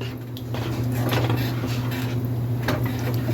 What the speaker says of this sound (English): So now I'm stirring this up.